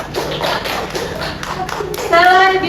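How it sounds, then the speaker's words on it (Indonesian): A classroom of students claps for a group of classmates, quick, close patters of hands mixed with children's voices and chatter, the applause fading as the talking continues. "Beri tepuk tangan untuk kelompok singa."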